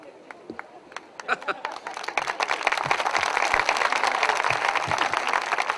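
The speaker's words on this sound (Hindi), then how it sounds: "आपने मेरे स्वागत में जो घनघोर तालियां बजाई हैं" A Hindi kavi sammelan audience gives the poet Sunil Jogi a welcoming round of applause. It starts as scattered claps and swells into a dense, steady crowd clapping that carries to the end.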